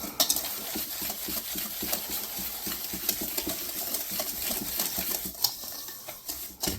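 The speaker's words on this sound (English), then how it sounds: "we're just going to mix that up with a whisk" Wire whisk stirring ground cinnamon and flour together in a bowl, a fast run of soft, scratchy clicking strokes that carries on steadily, close and fairly quiet, with no talking.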